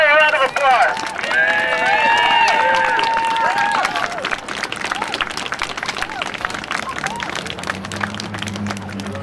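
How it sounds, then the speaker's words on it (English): An outdoor rally crowd on Parliament Hill in Ottawa claps and cheers, the applause broad and steady, with excited voices and whoops rising over it early on before it thins out. "let's give her a round of applause"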